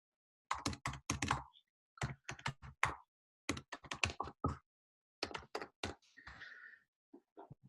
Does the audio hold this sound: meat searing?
no